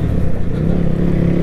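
A loud motorbike engine drones up close while riding through narrow lanes, a constant throaty hum with a low steady pitch and light rattle.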